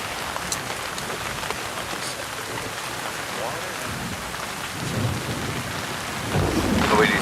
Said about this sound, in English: As you can hear, pouring down rain.